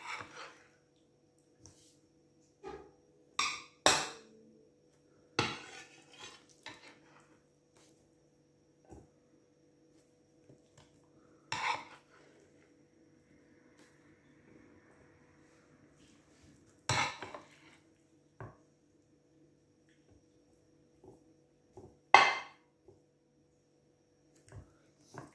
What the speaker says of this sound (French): Je vais commencer à les dispatcher dans le plat